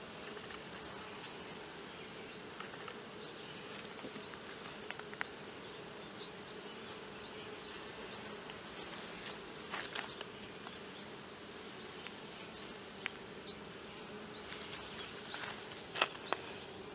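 Honey bees buzzing at an open beehive during hive work, a steady, soft swarm hum lasting throughout, with occasional faint clicks and taps of handling frames.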